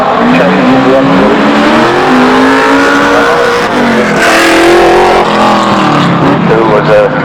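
A Mazda RX-7 rally car revs hard at a retro rally event, its engine note climbing and falling in loud, close sweeps, with a crowd or voices faintly beneath.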